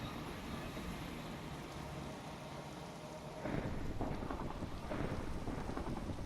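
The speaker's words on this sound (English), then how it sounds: "It's still thunder." Thunder rumbles through steady heavy rain, with a low broad roll that swells partway through and stays loud and dense to the end.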